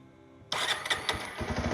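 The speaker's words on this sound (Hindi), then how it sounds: "आइए इस मोटरसाइकिल को अब हम लोग स्टार्ट कर लेते हैं" A 125cc motorcycle engine cranks and fires up abruptly after a brief quiet moment, settling into a loud, uneven idle up close.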